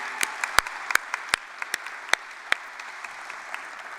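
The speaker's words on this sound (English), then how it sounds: "Quick round of applause there." Brief round of audience applause at a college athletic hall of fame ceremony, a steady patter of many hands with a few sharper individual claps, moderately distant and alone without talk.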